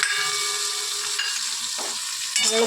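Ginger, green chilies and dried chilies fry in hot oil, a close, steady crackling sizzle with a brief stir or scrape partway through.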